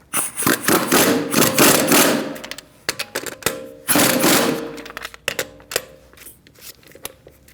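A power tool snugs the wheel lug nuts on a 2008-2014 Mercedes-Benz C300 with a 17mm socket. It runs in loud, close whirring bursts that start and stop repeatedly, with sharp clicks between them.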